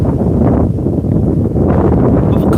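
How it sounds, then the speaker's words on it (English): Strong wind gusting across a microphone on a riverbank during lure fishing, a heavy low rumbling buffet that dips briefly and then surges again. "Oh, that is windy!"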